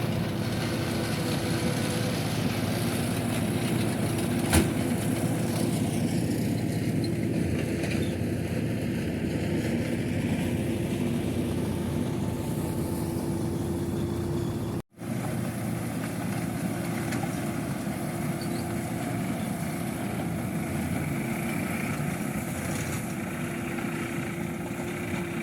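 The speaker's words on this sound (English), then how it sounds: "we're using the trencher, which the trencher is the attachment on the back of the tractor that just chops weeds" Tractor engine running steadily with a trencher attachment on the back chopping weeds while clearing farmland in Italy, a continuous mid-low mechanical drone heard close and alone, with a brief dropout partway through.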